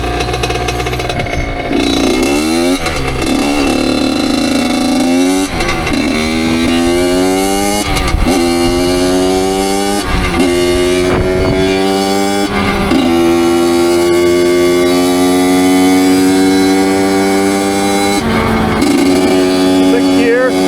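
A Honda CR85 two-stroke dirt bike, freshly rebuilt with a Wiseco piston, revs hard and climbs through the gears, its loud buzzing note rising repeatedly and dropping briefly at each shift.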